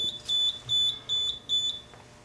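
A fire alarm control panel in an aircraft hangar beeps high and electronic in a repeating pattern of paired chirps, four rounds in quick rhythm, clear and near, with a water flow alarm activated.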